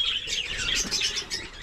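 Pet birds chirp and tweet busily while being fed moringa leaves, a dense, continuous chatter of overlapping bright calls, close and fairly loud, with no talking.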